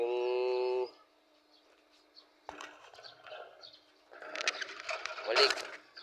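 Pigeons cooing faintly in a Philippine backyard loft, soft scattered calls with clicks and rustling, after a brief loud tonal sound at the start.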